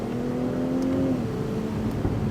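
A bi-turbo car engine pulls in Sport Plus mode, a smooth steady drone heard from inside the cabin with a faint rising whir and no pops.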